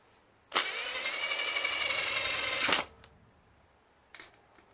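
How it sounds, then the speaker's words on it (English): An impact driver runs 3/8 bolts into the head of a 21HP repower engine on a Craftsman LT2000 lawn tractor, one sustained loud whirring burst of about two seconds, followed by a few faint clicks and taps. "To make it faster, got my impact driver, 3/8 bolts"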